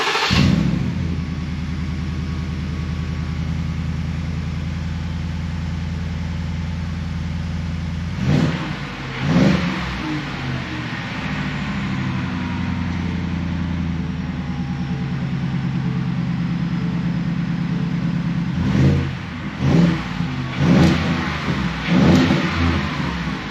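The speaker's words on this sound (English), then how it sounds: "Let's go ahead and fire this thing up and see what it sounds like." A Ford F-150 pickup fitted with a newly installed dual exhaust idles with a deep steady rumble, then blips the throttle in short revs twice, a single rev followed by a cluster of quick revs, loud and close with no talking.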